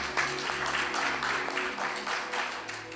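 A church congregation applauding to acclaim Jesus, steady clapping that carries through the whole stretch at moderate loudness, with no speech.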